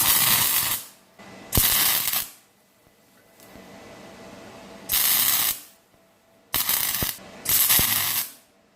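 MIG welder running beads on galvanized chain link while making a shark dehooker tool, several loud crackling bursts of about a second each, separated by quiet pauses.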